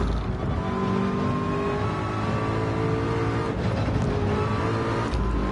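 Ford GTLM Spec 2 race car engine in a Le Mans racing game, a steady loud droning roar with harmonic whine throughout, rising slightly in pitch near the end.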